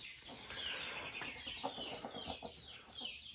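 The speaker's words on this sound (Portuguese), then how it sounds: "Eu vou fazer meu serviço de todos os dias. Alimentar as galinhas." Hens clucking busily at feeding time in a backyard flock, a steady overlapping chatter of short clucks and squawks from several birds nearby, with no talk.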